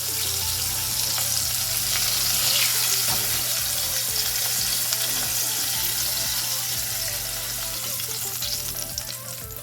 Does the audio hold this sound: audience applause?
no